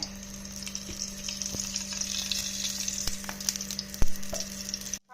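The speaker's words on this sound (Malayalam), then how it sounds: "നെയ്യിൽ വറുത്തെടുത്തിട്ട് വരാം ഇതെല്ലാം ഒന്ന് വറുത്തെടുക്കട്ടെ" Something frying in ghee in a pan for a Kerala tea-time snack, a steady close sizzle with a low hum beneath and a few sharp spoon taps against the pan.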